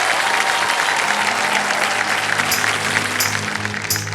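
A studio audience at a televised quiz-show taping claps loudly and continuously to welcome two singers, a dense, sustained ovation with a low tonal hum of music underneath.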